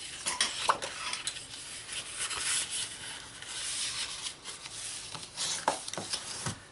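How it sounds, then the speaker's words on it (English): Paper is folded and burnished into a box, making soft, close scraping and rubbing with a few light taps and crinkles. "Let's fold and burnish."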